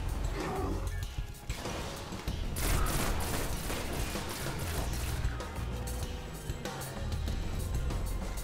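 Video game gunfire in Destiny, heard as dense, continuous shooting with crashes and rapid bursts layered over a loud, busy combat soundscape.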